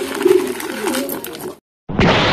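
Racing pigeons coo in low, rolling murmurs close by, with ambient noise around them, followed by a short silence and then a louder burst of sound.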